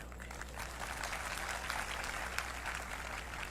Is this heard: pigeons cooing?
no